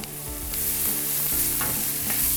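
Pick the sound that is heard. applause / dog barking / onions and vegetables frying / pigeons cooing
onions and vegetables frying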